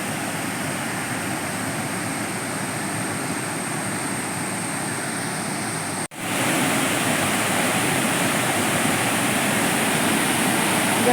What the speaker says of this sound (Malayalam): മാടശ്ശേരി പാലവും വെള്ളച്ചാട്ടവുമാണ്